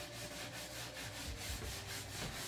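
A small power sander whirs steadily against wooden kitchen cabinets, a continuous rubbing buzz with a faint pulsing texture.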